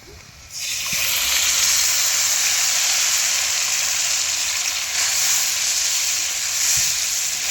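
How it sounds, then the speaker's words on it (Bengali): Ginger-garlic paste hits onions already fried red in a pan over a wood fire and sets off a loud, steady sizzle that runs on unbroken after the first splash. "এবার এর মধ্যে আদা রসুন যে পেস্ট করা ছিল সেটা দিয়ে দিচ্ছি।"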